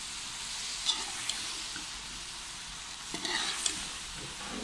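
Eggplant and potato sabzi with tomato stirred in a hot pan, a steady sizzle of frying with a few scraping stirs over it, close and fairly loud, no talk.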